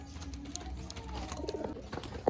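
Pigeons offered for sale in Baruipur cooing softly and briefly, the calls faint over low room murmur and small rustles.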